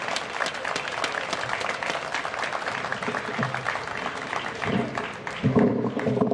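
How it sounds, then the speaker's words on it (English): Sustained applause from a crowd, steady and dense throughout, swelling slightly louder near the end. "So big round of applause for those guys."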